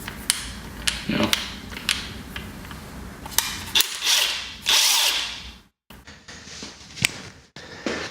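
A Milwaukee or DeWalt 1/2-inch cordless impact wrench fires in short repeated bursts of rapid hammering rattle, loud and close, with gaps and trigger bumps between them.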